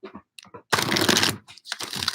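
A deck of tarot cards is shuffled in a bright, crackling riffle lasting about half a second, set between softer taps and shuffling of cards, close and fairly loud.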